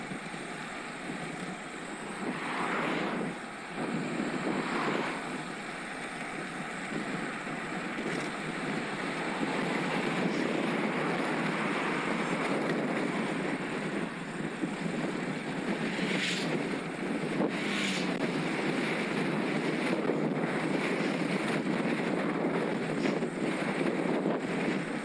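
Gusty crosswind roars steadily across the microphone while riding a Scott Addict RC e-road bike with a Mahle X20 motor in the Peak District, a loud continuous rush that swells and buffets without pause.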